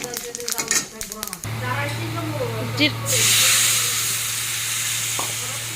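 Panch phoron spices hit hot oil in a pan and burst into a loud, steady sizzle and hiss close up, after scraping and stirring, with someone speaking near the start.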